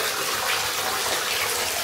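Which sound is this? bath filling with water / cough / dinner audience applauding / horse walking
bath filling with water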